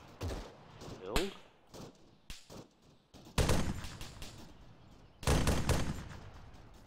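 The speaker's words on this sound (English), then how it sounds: "Jack, what are you firing at?" Gunfire in the military shooter Arma, heard as scattered sharp reports and a couple of longer loud volleys, some near and some more distant, with voices talking between them.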